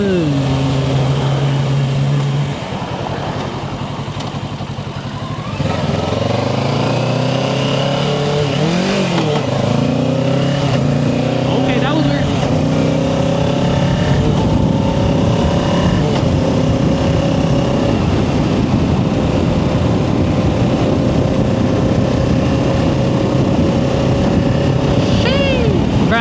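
A 2025 Kawasaki Ninja 650 ABS motorcycle engine droning loud and close while riding at held revs, pitch shifting with throttle changes over steady wind rush, with a voice talking over it.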